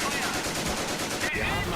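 Machine gun team firing in the World War II strategy video game Company of Heroes, rapid bursts of gunfire heard faintly in the background, with a brief whooshing tone near the end.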